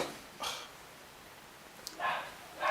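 A dog barks indoors in a house, two separate barks a little over a second apart, both moderately loud and set against a quiet background.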